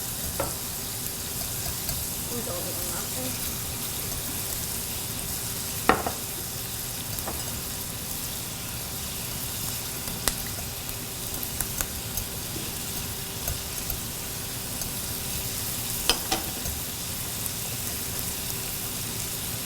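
Vegetables stir-frying in hot sesame oil give a steady, dense sizzle and crackle across the whole stretch, with occasional sharper pops and spatters and no talk over it.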